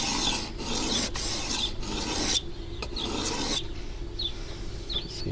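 A knife blade is drawn across a coarse Fallkniven DC521 sharpening stone, giving repeated rough, gritty rasping strokes, close and steady, with brief pauses between passes and no talking.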